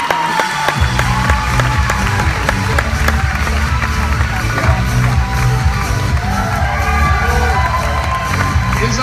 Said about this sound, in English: Give James McNeil a round of applause.